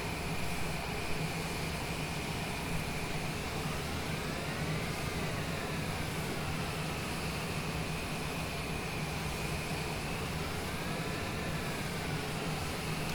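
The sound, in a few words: Cessna Citation Longitude Honeywell turbofan engines in a video game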